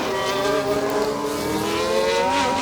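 A Formula 1 race car engine from the F1 Manager 2023 game screams at high revs on a flying lap, a loud, sustained whine climbing and shifting in pitch, with no talk over it.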